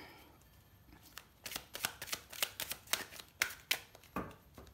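Tarot cards riffled and shuffled by hand in a quiet room, a run of crisp, papery bursts and slaps that come in uneven clusters, close and moderately loud, with no talking.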